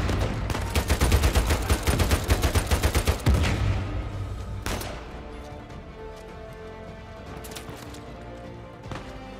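Rapid bursts of gunfire from a shootout in the video game Uncharted 4, a dense volley of close shots for about three seconds, then one sharp report and scattered distant pops over a low ambient rumble.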